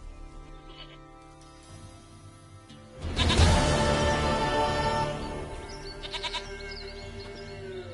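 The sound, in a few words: goat bleating in The Witcher 3 video game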